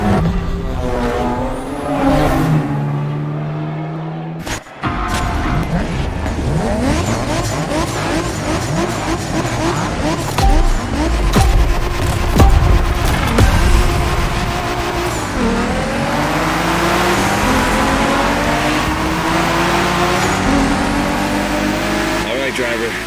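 Toyota Supra racing in the video game The Crew Motorfest, a loud revving engine climbing and shifting through gears with tire squeal and passing cars, under continuous talk.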